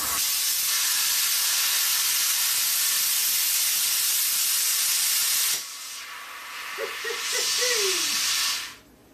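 A plasma cutter cuts away an old, ratty weld on steel with a loud, continuous hiss for about five and a half seconds. The hiss then cuts off sharply, leaving quieter noise and a brief voice.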